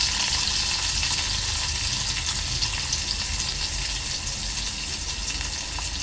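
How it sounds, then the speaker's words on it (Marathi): Chopped onion sizzles in hot oil in a pan, a dense, steady frying hiss that stays loud and continuous throughout, with no voices. "कांदा चांगला तेलावर परतून घ्यायचा आहे 2 ते 3 मिनिटं।"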